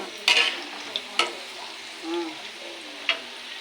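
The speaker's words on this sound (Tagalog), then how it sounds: "Ay mix ko yung chicken dito sa pork apretada" Chicken is stirred into pork afritada in a pan, with a few sharp scrapes and clacks of a utensil against the pan over a faint sizzle, close and fairly quiet.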